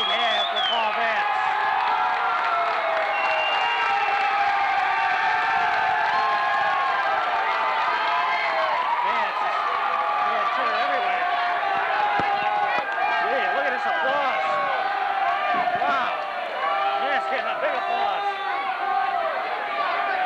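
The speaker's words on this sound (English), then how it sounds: "Big applause." A packed arena crowd at a 1992 college basketball game between Holy Cross and Sacred Heart roars and applauds continuously at full loudness, with a broadcast commentator talking over it throughout.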